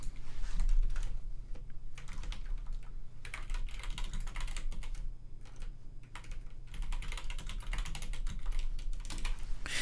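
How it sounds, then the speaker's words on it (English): Steady typing on a computer keyboard, rapid, close keystrokes continuing for about ten seconds with brief pauses, no voices. "let me actually type it down here too."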